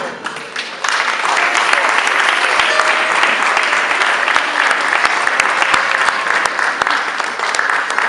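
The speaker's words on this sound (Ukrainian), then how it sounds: "оплески, бо можливо це перші їхні оплески в цьому храмі" Sustained, dense applause fills a theatre hall during the Ternopil Theatre Evenings 2013 awards ceremony, with many hands clapping evenly and loudly for about eight seconds after a brief quieter start.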